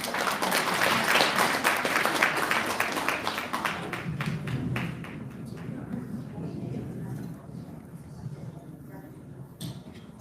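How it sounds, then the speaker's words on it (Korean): Audience applause welcoming a pansori singer onto the stage at an Asian culture and economy exchange evening, a dense burst of clapping that starts loud and gradually thins and fades over about ten seconds. "여러분 큰 박수로 맞으시기 바랍니다"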